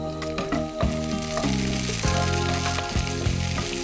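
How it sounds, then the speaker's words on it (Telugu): Green chilies, curry leaves and ginger frying in hot oil for a khichdi, a steady close sizzle with stirring clatter throughout, no talk. "ఇదంతా కొద్దిగా అల్లం లైట్గా నూనెలో ఫ్రై అయితే అసలు భలేగా ఉంటుంది."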